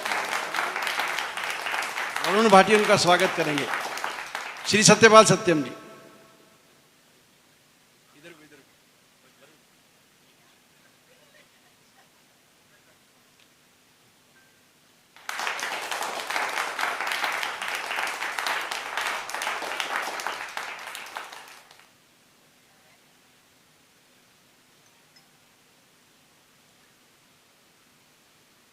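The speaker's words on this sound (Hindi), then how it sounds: "आप जोरदार तालियां बजाकर स्वागत करें" A seated audience at a Hindi poetry gathering (kavi sammelan) applauds a poet. An announcer speaks over the opening burst of clapping, then after a quiet gap a full round of sustained applause runs for about seven seconds before fading.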